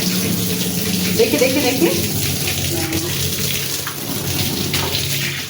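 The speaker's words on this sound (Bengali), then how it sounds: "একটু জল দিয়ে আগে ভিজিয়ে ভিজিয়ে।" Water is poured over doormats to soak them, giving a steady close splashing and rushing flow while someone speaks briefly over it.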